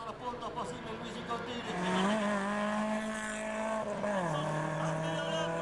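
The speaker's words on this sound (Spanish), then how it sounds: "Aquí el Peugeot de Luigi Contín con Federico Rodríguez" A Peugeot rally car races through a night qualifying stage at the Rally de Punta del Este, its engine note climbing through the gears and holding loud, with commentary running over it.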